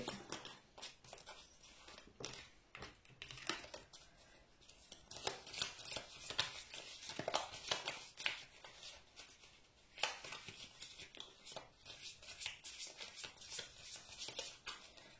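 A tarot deck being shuffled, giving quiet, repeated riffling and slapping bursts of cards in an irregular rhythm, close by with no talk.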